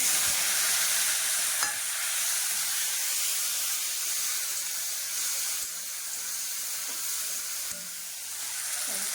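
Garlic sizzles steadily in a hot pan with oil, a bright continuous crackle broken by a few stirring clicks and scrapes, close and fairly loud, with no talking.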